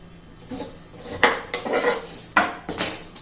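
Peeler scraping the skin off a large beetroot in a home kitchen, several quick rasping strokes with light clinks, close and moderately loud.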